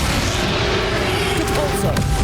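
A Confringo fire spell bursts in Hogwarts Legacy on Nintendo Switch, a booming blast over continuous battle noise with a tonal sound effect, with some voice present.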